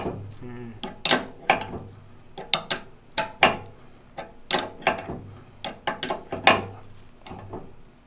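A ratcheting wrench bolts casters onto a Crazy Cart, giving a quick series of sharp metallic clicks and clanks in irregular bursts, close and fairly loud, with a low mechanical hum underneath.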